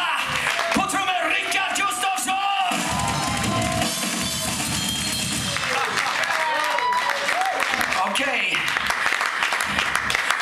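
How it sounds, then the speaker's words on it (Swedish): A live concert crowd applauds the drummer with sustained clapping and cheers, whoops and shouts rising through the din, while a voice speaks loudly over the noise. "Ge honom en riktigt stor applåd."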